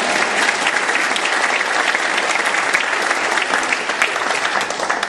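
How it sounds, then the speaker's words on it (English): Concert audience applauding steadily for the full stretch, a dense, loud and continuous wash of many hands clapping with no talk over it. "A big round of applause to Sue and Norm"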